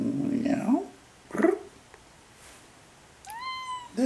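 A cat meows several times, close and fairly loud, with short rising and falling calls and a brief throaty growl-like tone, while a person talks between the sounds.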